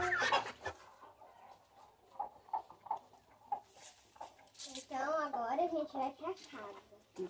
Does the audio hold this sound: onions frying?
no